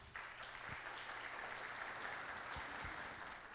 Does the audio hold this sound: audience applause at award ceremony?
yes